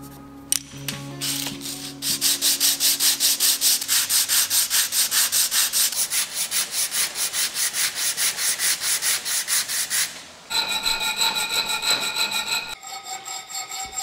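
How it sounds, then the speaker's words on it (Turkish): A steel knife's handle is smoothed with belt and paper sanding in fast, regular rasping strokes that repeat steadily for many seconds, pause briefly, then resume, close and loud with no talking. "Ardından bant ve kağıt zımparayla kabzamızı düzlüyoruz."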